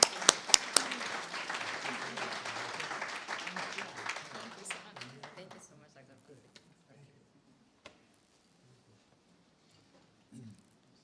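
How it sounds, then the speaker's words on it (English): An audience at a board of education meeting breaks into applause, a burst of clapping that tapers off over several seconds, followed by a couple of isolated knocks and near silence. "Let's give them all a big round of applause."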